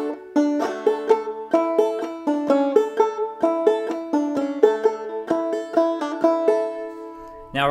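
Clawhammer banjo picks out the tune Logan County Blues in a quick, bright run of plucked notes and brushed strums with a driving bouncy rhythm, played close and alone.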